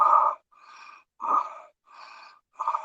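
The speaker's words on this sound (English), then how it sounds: "it sounds like this when you inhale through the mouth and you exhale through the mouth" A person takes short circular breaths in and out through the mouth, five audible breaths alternating between louder pulls and softer releases, close and clear with silent gaps, no talking.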